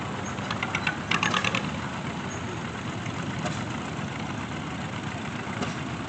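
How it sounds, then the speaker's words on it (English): A 1949 John Deere M tractor idles in a steam and gas association parade, its low steady engine rumble running throughout under outdoor crowd noise, with a few faint higher clicks and voices in the background. "Then we got a John Deere M 1949."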